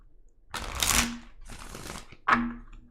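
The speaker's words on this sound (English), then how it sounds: "I'm gonna have to shuffle these cards as they are right now" Tarot cards being shuffled by hand in a few separate bursts of riffling and sliding, close and distinct with short pauses between, and no talking.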